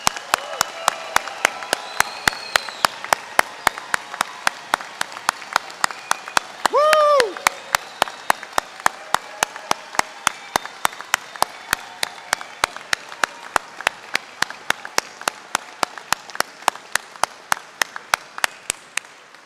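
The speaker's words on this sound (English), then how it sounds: "Let's give them a thundering round of applause." Sustained applause from a large crowd at a high school commencement ceremony, steady rapid clapping throughout with a brief whoop or cheer partway through.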